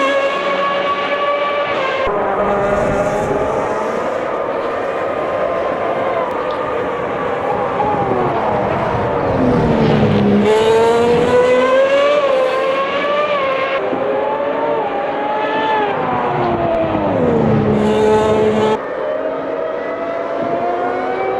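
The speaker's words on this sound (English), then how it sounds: "that is the sound of the Ferrari V12." A high-pitched Ferrari V12 historic racing car engine in the Automobilista 2 video game at Monza screams continuously, its pitch climbing and dropping sharply through repeated gear shifts and revs.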